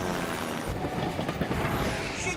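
A cartoon train rumbles and clatters past close by, with a rushing, rattling roar of wheels on rails.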